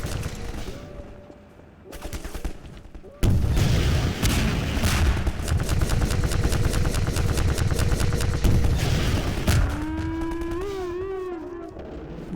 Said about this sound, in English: Why does it take so many rockets?